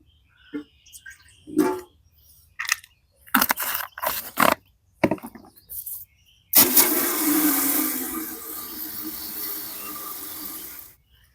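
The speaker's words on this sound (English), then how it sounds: "pour some in your watering can, put in some water" Water runs into a watering can mixed with fertilizer, a sustained splashing gush that follows several short clunks and handling noises, then fades.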